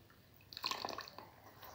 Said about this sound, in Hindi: अब इसमें हम थोड़ा सा पानी डालते हैं, 1 कप जितना पानी डालते हैं बस।